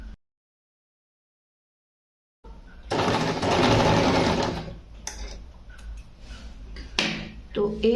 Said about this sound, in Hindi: इसमें यहाँ पे इस तरह से सिलाई लगा लेनी है